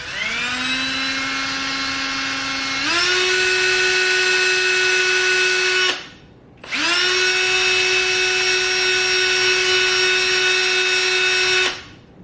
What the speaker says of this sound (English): You already know I'm gonna be cleaning all my brushes with a drill.